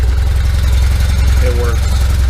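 A BMW R1200RT motorcycle engine runs steadily in first gear with the rear wheel turning, giving a loud, continuous low throbbing rumble at close range.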